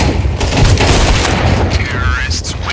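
In Counter-Strike 2, a flashbang grenade detonates amid a match. Loud, booming blasts and rapid gunfire bursts fill the whole stretch, with game voice lines over the action.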